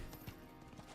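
Horse mount hooves clip-clopping in Diablo 4, a short burst of steady, fairly loud hoofbeats with no talk over them.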